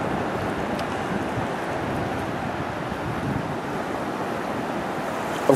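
Surf on a Gulf of Mexico beach near Cameron, Louisiana, a steady broad wash of breaking waves mixed with wind buffeting the microphone, continuous and fairly loud.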